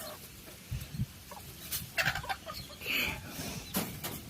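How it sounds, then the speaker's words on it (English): Chickens in a backyard coop cluck in short, scattered bursts at close range, mixed with a rooster-like call and some rustling, while people talk briefly nearby. "Now we have chickens."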